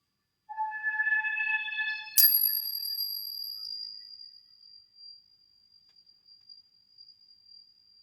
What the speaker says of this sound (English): These are beautiful little hand chimes.